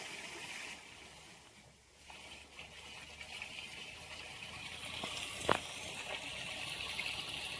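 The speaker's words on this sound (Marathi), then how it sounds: "आता ही पाणी त्या बॅकवाल बॅकवाल मार्फत घाण पाणी पूर्ण आपलं त्या साईडला पण काढून टाकले" Water flushes through a drip irrigation sand filter during backwash as a soft, steady rushing flow. The level dips briefly early on, and a sharp click or knock comes near the end.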